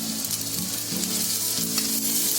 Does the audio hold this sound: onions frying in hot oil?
yes